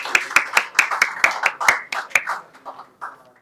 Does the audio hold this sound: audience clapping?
yes